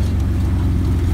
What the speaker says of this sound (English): That's the turbo on the old Ford.